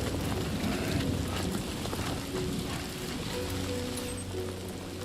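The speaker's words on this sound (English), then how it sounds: "the rain effect, man, it's just excellent." Steady, dense rainfall in the video game Death Stranding 2, a constant hiss of drops on surfaces with a low background hum, holding at an even level throughout.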